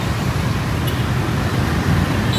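Street traffic idles at a red light in Vietnam, a dense, steady rumble of engines close by, continuous and without horns or speech standing out.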